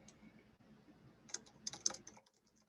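Fingers type a project title on a computer keyboard, with a faint cluster of quick clicking keystrokes in the second half over a quiet background.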